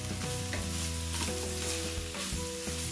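Sliced, already-cooked meatballs tumbling into a hot pan of cabbage that has been sautéing, with steady loud sizzling and stirring scrapes throughout while fried rice is made from leftover rice.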